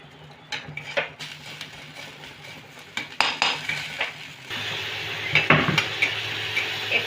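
Spice paste fries and sizzles in a pan while a metal spoon stirs and scrapes, giving sharp clinks and knocks; a burst of water splashed in makes the sizzling swell louder and steadier toward the end.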